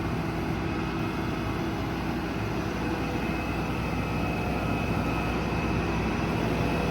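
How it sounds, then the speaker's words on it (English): The hydraulic system of an HC12 Autocrane runs on a 2020 Kenworth T270 truck, a steady, loud mechanical drone with a broadband whine that holds evenly throughout, with no voices. "You push this forward, and now the hydraulic flow is going to the crane and to the compressor."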